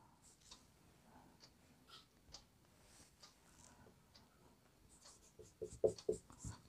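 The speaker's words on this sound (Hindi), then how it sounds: "तो अब यहाँ लिखेंगे" Chalk or marker writing on a board during a maths lesson, a series of faint scratchy strokes and taps that grow into a few sharper, louder knocks near the end, with no talking.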